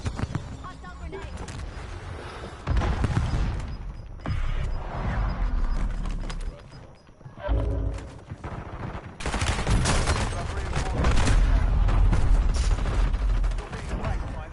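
Gunfire in an online console shooter, with loud close bursts of automatic fire and scattered single shots coming in uneven clusters, along with in-game voices.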